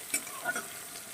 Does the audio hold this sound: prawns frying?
yes